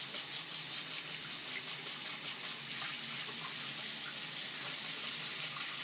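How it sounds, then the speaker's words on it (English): Warm tap water runs in a steady, continuous stream while a paint brush is rinsed under it, a close hissing gush that grows slightly fuller partway through, with no talking. "Try to keep it on the side of the water stream so the water goes down."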